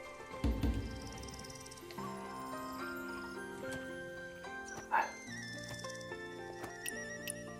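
A dog in the video game Where Winds Meet gives a couple of sharp barks, one early and one midway, over soft, tonal background music.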